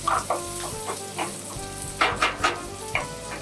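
Celery, bacon and onion sizzle over high heat in a pan, a steady loud frying hiss with periodic bursts as the ingredients are stirred, with no voices.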